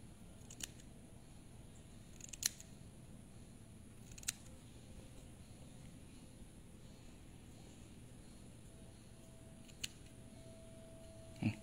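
Scissors snip hair during a haircut: a handful of sharp, isolated metallic clicks spaced seconds apart over a quiet, low background hum, with no talking.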